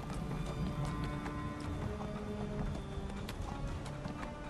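Hooves of a ridden horse clip-clop steadily in the fantasy video game Neverwinter, a quick continuous trotting rhythm over game background sound, with no talk.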